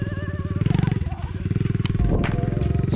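A dirt bike engine revs hard in a quick pulsing burst while a rider pulls a small wheelie, close and loud. A voice speaks over the motor.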